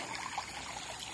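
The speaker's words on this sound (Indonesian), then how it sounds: "Ni ada air mengalir lah. Macam air sungai kecil." A small stream of water flows beside a forest and oil palm plantation, a soft continuous trickle with steady bubbling, fairly faint and even throughout.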